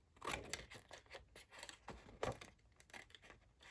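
Scissors cut through a paper sheet for a small journal booklet, a run of close, quiet crisp snips and slicing strokes in quick succession with no talking.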